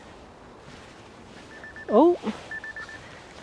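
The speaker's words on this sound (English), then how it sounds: "hello, that's my alarm" A phone alarm goes off during a walk around an autumn allotment, a short electronic melody of quick rising chirps followed by thin repeating beeps, heard close up after a brief exclamation.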